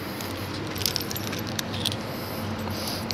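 Keys jingle and clink in a lock while a door is unlocked, a soft metallic rattle with a few small bright taps, faint against a steady background hum.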